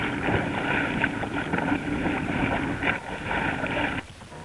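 A small sailboat under way at night on open water in the Everglades Challenge, heading for Flamingo, gives a continuous rushing wash of water and wind noise, fairly loud and steady, with no voices.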